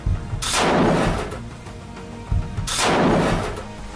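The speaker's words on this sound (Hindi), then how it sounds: "इन लड़ाकों के हाथों में मशीन गन होती हैं, जिससे दनादन फायरिंग हो रही है।" Heavy gunfire in combat footage from the Israel–Hamas war in Gaza, two loud booming bursts that roll away with long reverberant tails, with no talk.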